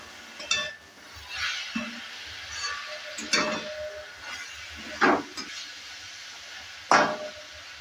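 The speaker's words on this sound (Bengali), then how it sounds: "তেলটা দেওয়ার পরও আবারও ভালো করে একটু নেড়ে চেড়ে নিচ্ছি।" Potato leaves frying in mustard oil and stirred in a pan, with intermittent scraping strokes every second or two over a faint, soft sizzle.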